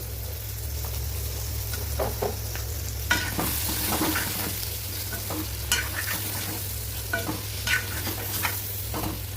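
Brinjal curry with turmeric and chilli powder is gently stirred in a pan under a constant low sizzle, the spatula scraping and tapping at irregular intervals, close and alone.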